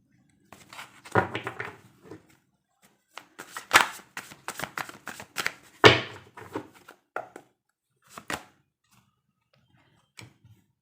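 Tarot cards are shuffled and handled in irregular, crisp flurries of riffling and tapping at close range, with short quiet gaps between bursts.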